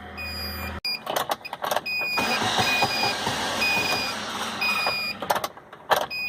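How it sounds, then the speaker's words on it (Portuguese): A 2012 Chery QQ engine cranks and catches, then runs roughly with warning chimes beeping before it stutters and dies, close and moderately loud with no talk. "Você dá a partida, ele funciona e morre"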